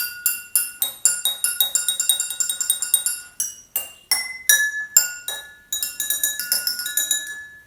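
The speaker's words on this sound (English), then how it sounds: "the small one sounds really high-pitched, while the big one sounds more low-pitched" Drumstick and BBQ skewer tapping glasses of different sizes, a quick run of bright ringing clinks at varying pitches, close and clear, with short pauses and decaying chimes between strikes.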